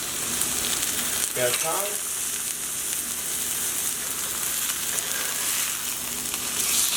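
Chicken pan-roasts in a hot skillet, a steady, close, even sizzle and crackle that runs the whole time, with brief speech over it.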